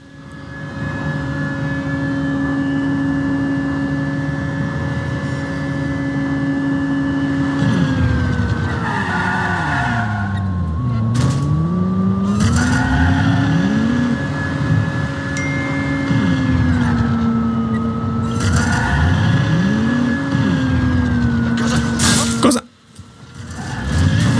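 An electric motorbike ridden in the video game Watch Dogs 2 gives a steady whining motor hum that rises and falls in pitch with speed, with swooping passes and a few skids over roughly twenty seconds.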